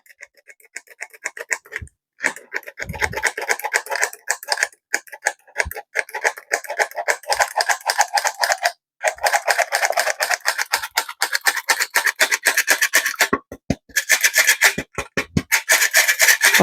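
Flour being sieved for a banana cake, with rapid rhythmic scratchy rubbing and tapping of a mesh sieve, close and continuous in bursts with brief gaps.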